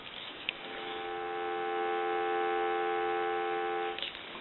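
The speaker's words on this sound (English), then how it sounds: "We'll give you some dial tone." A steady, continuous dial tone on a Kellogg Redbar rotary desk telephone hums evenly for a few seconds, starting and stopping cleanly with faint clicks at either end.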